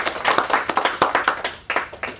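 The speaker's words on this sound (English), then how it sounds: "Let's get him a small round of applause." A small audience at a business-launch talk claps briefly: a few close, distinct hand claps in a quick uneven rhythm that fade out after about two seconds.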